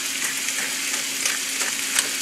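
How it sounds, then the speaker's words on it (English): Diced onion and one rib of diced celery seasoned with kosher salt and black pepper sauté in a pan, giving a steady close crackling sizzle with small pops and no voices. "we're gonna let that saute"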